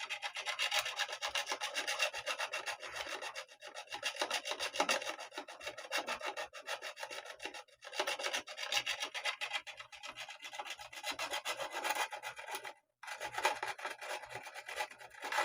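A StewMac Fret Kisser is rubbed back and forth across metal guitar frets, giving a rapid, continuous raspy scraping in steady strokes with a brief pause near the end, close and alone without speech.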